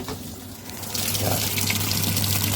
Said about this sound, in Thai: น้ำไหลเข้าเรียบร้อยนะครับ